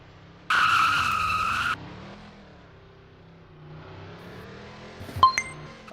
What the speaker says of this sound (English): Tyrone, try your best at doing proper burnouts. In these cars, these are pretty hard to do burnouts